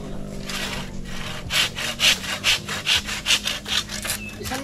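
A hand saw cuts through wood in close, rhythmic back-and-forth strokes, about nine rasping pulls that grow louder and more even as the cut settles in, with no talking over them.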